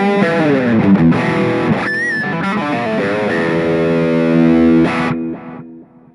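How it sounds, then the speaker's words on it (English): Distorted electric guitar played through a Blackstar Debut 10E amp with a long delay for solos, loud sustained notes and a bent lead line ringing on, then decaying repeats trailing off at the end. "So as you can hear, the delay's long enough for solos."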